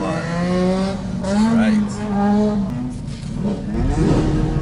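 A car cruises a lap of the race track at Gazzanats 2019 with an engine warning light on, engine droning and rising steadily in pitch as it accelerates, close and loud, with a voice speaking briefly over it.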